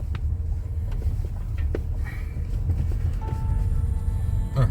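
A soft-riding car driving along a road between Cowaramup and Busselton, giving a steady low engine and road rumble throughout with small rattles and clicks inside the cabin, no talking.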